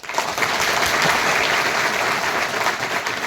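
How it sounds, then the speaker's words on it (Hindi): An audience at an employment fair in Gwalior breaks into loud, sustained applause, many hands clapping in a dense, even wash that continues without a break. "अब तालियों में थोड़ी गर्मजोशी आई।"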